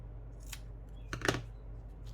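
Scissors snip through ribbon being trimmed shorter for a no-sew junk journal hinge, a few quiet, close crisp cuts bunched near the middle in an otherwise hushed tabletop setting.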